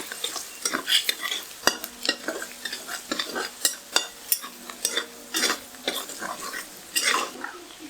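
Chopped ginger and garlic are sautéed in hot oil for chicken noodles, with a soft sizzle under repeated sharp scrapes and clinks of a metal spatula against the pan in an irregular stirring rhythm.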